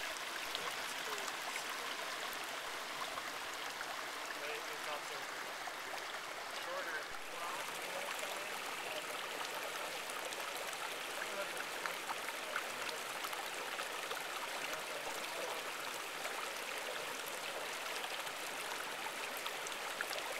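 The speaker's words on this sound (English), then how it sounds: "Refilling our water bottles in the stream." Steady broadband rushing of flowing water from a stream, constant and fairly close, with no talking.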